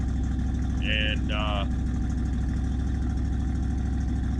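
A cold 1976 Ford Ranchero 500 V8 idles with a low-pressure oil problem, giving a close, steady, loud rumbling rhythm while someone briefly speaks over it.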